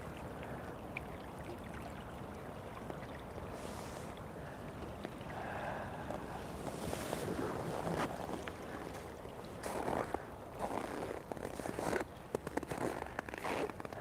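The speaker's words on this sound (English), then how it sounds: "That is the river." Winter night at a river in Oulu, Finland, at about -12 to -18°C: a steady broadband rush of flowing water continues throughout at moderate level, with a few brief rustles and crunches near the end.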